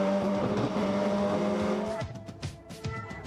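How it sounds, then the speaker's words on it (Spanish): Touring race cars speed along a circuit beside a guardrail, a loud, close engine drone with a steady whine that breaks after two seconds into sharper, uneven bursts and tire scrubbing. "Werner se corre hacia el auto de Pernía que le pasa peligrosamente cerca al guardrail"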